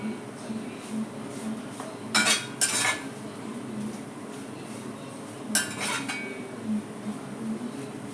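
Utensil scraping and clinking against a pan while shredded beef idiyirachi is stirred and roasted, with a few brief louder bursts of stirring over a steady low background hum.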